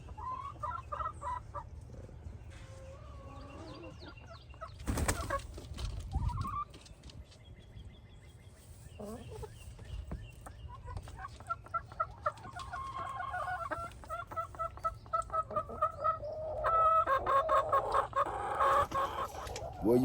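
Chickens cluck and squawk around freshly built, inexpensive nesting boxes, with repeated hen calls near the microphone and a busier, louder run of clucking toward the end; no one speaks.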